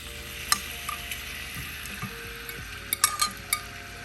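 Shrimp and lobster fry in a pan with chopped scallions and garlic, giving a faint, steady sizzle. A few sharp clinks of a utensil stirring against the pan stand out, and there is no talk.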